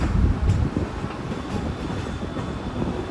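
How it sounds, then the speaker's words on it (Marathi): A train rumbles past nearby, with a steady low roar and faint rattling of the carriages throughout. "समोरची ट्रेन आली"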